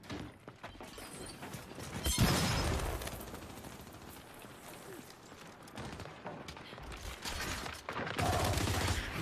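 Bursts of gunfire in Gears 5 ranked versus multiplayer, dense overlapping shots and pops running throughout with louder volleys near the start and end, amid busy game noise.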